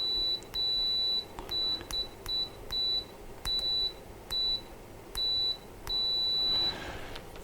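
A series of short, high-pitched electronic beeps from a Tooltop ET13S multimeter continuity test, repeating at irregular intervals, some brief and some held longer, over faint background hiss, with no talking.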